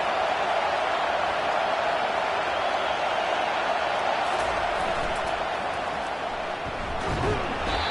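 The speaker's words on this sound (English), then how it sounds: "this crowd is fired up. Listen to this noise here" A large football stadium crowd at a Michigan game roars in a steady, dense wall of cheering that holds loud throughout, with a brief swell and some clatter near the end.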